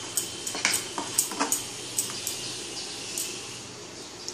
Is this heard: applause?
no